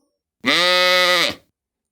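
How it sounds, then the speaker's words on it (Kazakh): A single sheep bleat, close and steady, lasting about a second, alone against silence. "Қой. Қой. Қой."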